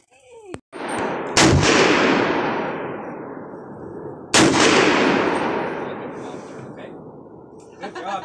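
Two loud, close .38 Special shots from a lever-action rifle at an outdoor range, each a sharp crack followed by a long rolling echo that fades slowly, spaced about three seconds apart.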